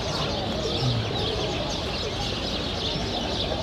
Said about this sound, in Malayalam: ഒരു പ്രത്യേക ഒരു സൗണ്ട് തന്നെയാണ് അവിടെയൊക്കെ നിൽക്കുന്ന സമയത്ത് ആ കിളികളുടെ സൗണ്ടും കാര്യങ്ങളൊക്കെ